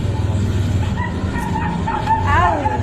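A dog dragged behind a motorbike gives short yips and whimpering cries over an engine rumble, the cries rising into a wavering whine near the end.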